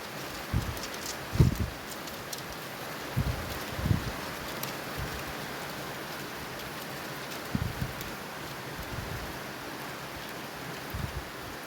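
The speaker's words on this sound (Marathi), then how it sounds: "दीड वाजताच पाऊस आला एवढा पाऊस आहे" Steady rain falling with a continuous hiss, with occasional louder knocks and thuds scattered over it.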